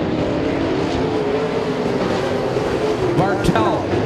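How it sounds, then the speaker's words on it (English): Race cars roar around a speedway track, engines droning and shifting pitch as they jostle for position, with a commentator talking over the steady motor noise. "Some cars zigging and zagging as they're position."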